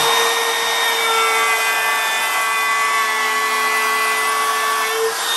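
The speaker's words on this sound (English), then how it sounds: "this is just a little laminate trimmer." A small laminate trimmer with a flat cutting bit routs a kitchen work surface, giving a steady, high-pitched motor whine with a constant tonal hum throughout, loud and close with no talking.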